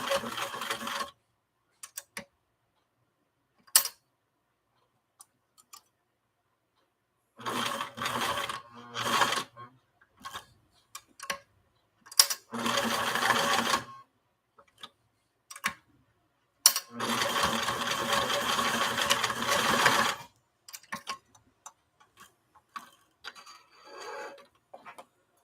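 A sewing machine stitches a curve in short, start-and-stop bursts of rapid whirring, separated by pauses and small clicks as the presser foot is lifted and the fabric turned.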